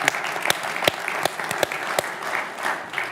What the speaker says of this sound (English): it deserves a round of applause from this audience